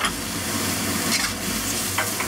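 Chicken, mushrooms and bamboo shoots stir-frying in an oiled pan for chow mein, a steady close sizzle with scraping stirs and a few brief clinks, no talking.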